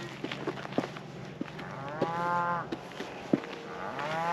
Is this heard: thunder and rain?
no